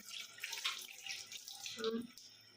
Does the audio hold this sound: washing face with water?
yes